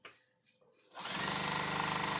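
A home sewing machine starts up after a brief quieter moment and runs in a fast, steady, loud mechanical whir with rapid stitching rattle.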